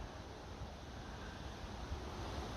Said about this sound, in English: It's quite a breezy, blowing morning.